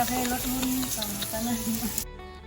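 Pork sizzling on a hot mookata grill pan at a Thai barbecue gathering, a dense steady crackle and hiss that cuts off abruptly near the end, with voices faintly underneath.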